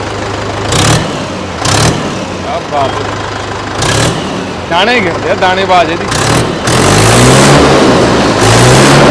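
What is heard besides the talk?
Arjun tractor engine running and revving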